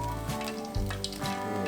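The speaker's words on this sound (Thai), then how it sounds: "ทอดไฟแรงนะครับเพื่อให้หนังกรอบนะครับ" Pork belly skin deep-frying in hot oil over high heat, a dense continuous sizzle and crackle, close and steady throughout with no voices.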